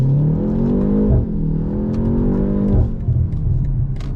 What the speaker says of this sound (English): You hold it down, it downshifts for you, and it gives you a 10-second boost